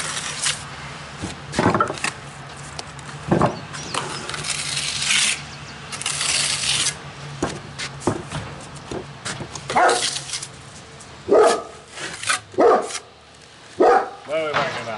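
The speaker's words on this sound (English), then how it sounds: "What are we barking about?" A dog named Butter barks in short scattered bursts and whimpers near a stone-sawing worksite, mixed with clinks and scraping, while someone talks at intervals.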